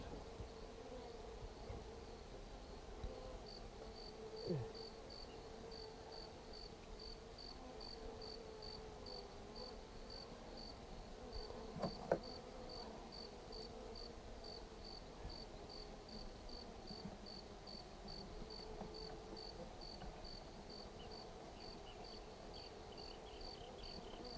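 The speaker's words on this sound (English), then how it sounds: "Now they're buzzing around." A steady honeybee buzz hums around a hive throughout, with a high repeating chirp-like pulse overhead and a few faint knocks, no speech.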